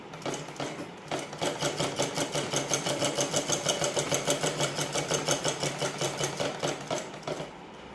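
A sewing machine stitches a cancan petticoat, running in a steady rapid mechanical chatter with evenly spaced pulses for several seconds after a short start, close and moderately loud.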